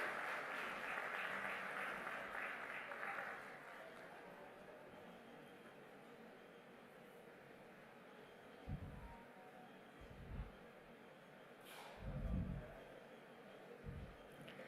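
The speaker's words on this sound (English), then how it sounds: "Let's give a round of applause for all our dignitaries on the stage." Audience applause for dignitaries on stage at the BioAsia 2024 valedictory ceremony at HICC, Hyderabad, a broad wash of clapping early on that fades into a quieter hall with a few low thumps.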